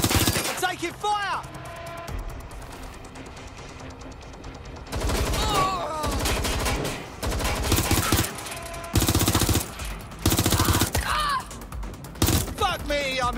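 Heavy gunfire in the Watch Dogs Legion video game, with loud bursts of automatic fire repeating in clusters throughout, a voice shouting between volleys.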